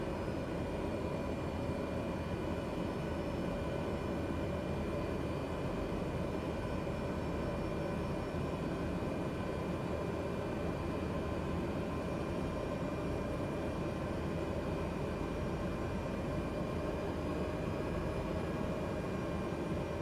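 Simulated propeller aircraft engine in Microsoft Flight Simulator during a pre-takeoff power check on a safari bush plane in the Okavango Delta, a steady droning roar with constant tone, unbroken and fairly loud.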